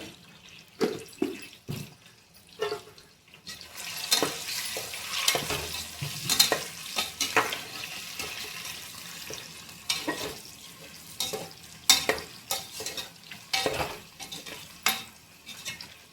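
Boiled eggs seasoned with chili powder, turmeric and salt fry in a pan with a crackling sizzle, broken by repeated scraping stirs and light clinks of utensil on pan, close and uneven in loudness.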